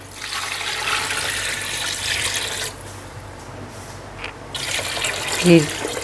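2.5 litres of water poured into a pressure cooker holding beef and rice for pulao, a steady rushing splash that runs for a few seconds, breaks off briefly, then resumes.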